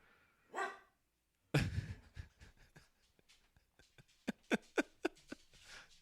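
A female dog barks in a string of sharp, loud barks near the end, following a few softer vocal noises and scuffling close by, with no talk in between.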